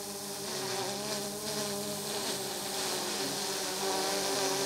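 A DJI Mavic 2 Pro drone hovers on its stock propellers, giving a steady, continuous insect-like buzz with layered pitch bands that hold even and fairly loud throughout, with no voices.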